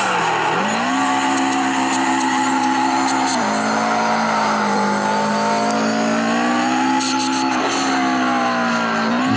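A rear-wheel-drive Subaru Impreza STI jump-drifts in CarX Drift Racing: the engine revs loud and steady, its pitch rising and falling, under continuous tire squeal with a few sharp impact ticks.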